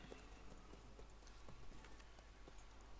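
Horse hooves clip-clop in a steady, even rhythm in a video game, with the animal close by. The sound is moderately quiet, carries on through the whole stretch and plays alone with no voices.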